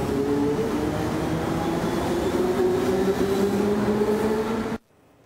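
A metro train in the Belo Horizonte and Contagem area rolls along with a loud, steady rumble and droning tones. The sound cuts off suddenly near the end.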